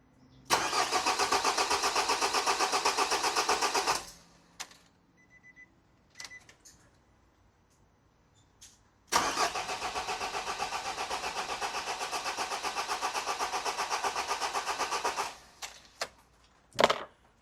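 A diesel engine cranks with its glow plugs on but fails to catch, in two long bursts of steady starter churning separated by a quiet pause, followed by a few short clicks.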